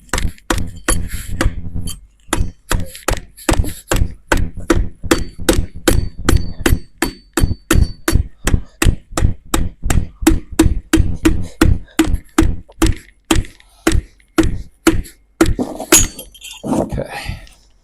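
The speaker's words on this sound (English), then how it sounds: "catch the rod bolts as Chase taps that piston down in the hole" A hammer taps a piston down into a cylinder bore of a Slant 6 engine during assembly, a long steady run of sharp metallic knocks at a brisk, even rhythm, close and loud, with a short pause early on.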